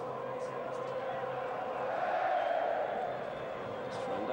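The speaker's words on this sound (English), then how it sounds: "the crowd are enjoying it" Crowd in a football stadium at Dortmund versus Rangers, a 1995-96 Champions League group match, in difficult conditions. A steady, distant roar and murmur holds throughout while a commentator talks over it.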